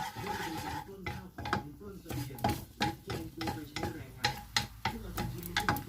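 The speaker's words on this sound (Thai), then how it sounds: "ผัดกระเทียมก่อนนะคะเจียวกระเทียม" Garlic frying in a pan for a stir-fry of minced beef with mixed vegetables, in a restaurant kitchen. A spatula clanks against the pan in steady, repeated knocks, and a light sizzle runs underneath.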